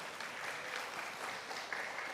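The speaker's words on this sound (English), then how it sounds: "One more round of applause, ladies and gentlemen." A conference audience applauds in a continuous, moderately loud patter of many clapping hands, steady over about two seconds with no voices on top.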